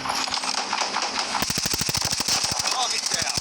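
Automatic gunfire from an AK117 rifle with the Lava Remix skin in a video game, a fast, evenly spaced burst of sharp shots that starts partway in over a busy, loud background.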